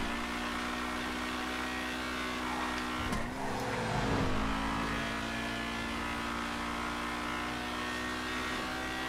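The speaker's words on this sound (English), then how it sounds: "Yeah, this car sounds fantastic." A race car engine in a GTA 5 traffic race drones steadily at high revs, with a brief shift and surge of revving in the middle and a constant tyre and road roar.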